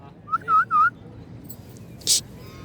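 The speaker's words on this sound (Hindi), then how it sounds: "बतख है, बतख" A duck or similar fowl calls near a roadside in Nainital, a few short rising honks in quick succession, then a brief bright squeak, over faint background noise.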